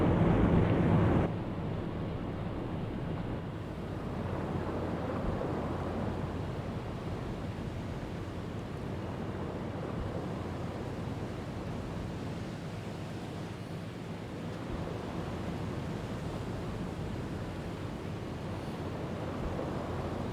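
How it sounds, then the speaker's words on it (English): Continuous rough ocean surf in the UBOAT submarine game, a broad windy roar of heavy waves washing around the surfaced sub, steady and fairly loud throughout with no voices. "periscope depth is going to be tricky when the waves are like literally doing this"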